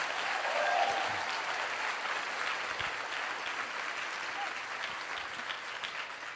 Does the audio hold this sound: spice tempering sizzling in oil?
no